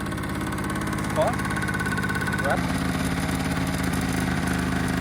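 A two-stroke motorcycle engine runs at a steady idle nearby, a continuous buzzing rattle, while a person speaks briefly over it.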